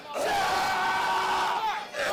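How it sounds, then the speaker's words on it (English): Wrestling crowd at a televised Friday night show chanting in unison, a loud sustained roar of many voices with a tonal, sung quality that dips briefly near the end before swelling again. "The crowd chanted it."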